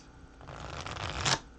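A deck of tarot cards is shuffled up close, a short soft riffle that builds to a crisp flutter and ends in a quick snap.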